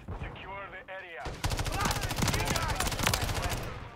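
Rapid bursts of gunfire in Call of Duty: Modern Warfare III, fast rhythmic shots following a short stretch of talk.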